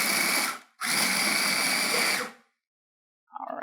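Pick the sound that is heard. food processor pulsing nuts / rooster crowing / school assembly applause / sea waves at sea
food processor pulsing nuts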